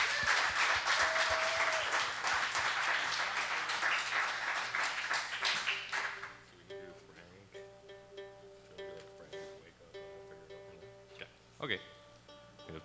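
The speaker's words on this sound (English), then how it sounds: "Let's get a round of applause." A live music audience claps in dense, loud applause for about six seconds, then it thins and fades as soft instrument tones and a few scattered claps continue.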